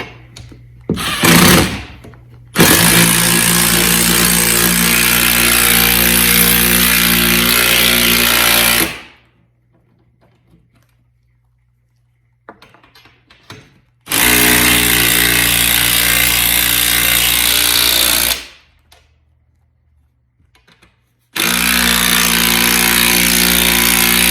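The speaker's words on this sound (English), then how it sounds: "Load up the other lag bolt, put that into place." A power tool drives a lag bolt into a garage ceiling joist for a ceiling rack install: three long, loud, grinding bursts separated by near silence, with a few faint knocks in the pauses.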